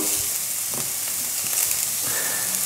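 Onions frying in oil in a pan over fairly low heat for a homemade meatball tomato sauce, seasoned with salt and black pepper, giving a steady close sizzle with a few soft stirring scrapes.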